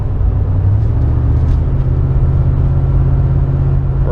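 A 1998 GMC C1500 pickup truck on cruise control gives a steady, low engine rumble with road drone as it accelerates. The sound is heard from inside the cab, continuous and fairly loud, with no talking.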